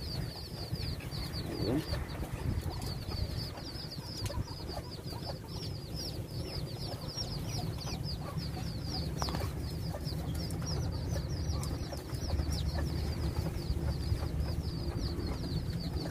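Pigeons, including Arabian breeds, in a cold coop, with steady cooing and clucking and a repeated high chirping that sound close and continuous. Occasional wing flaps come through, and someone speaks briefly.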